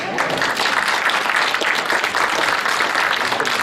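A live crowd at Harper College claps steadily and fairly loudly for the evening's main event, a close, continuous wash of applause with no gaps.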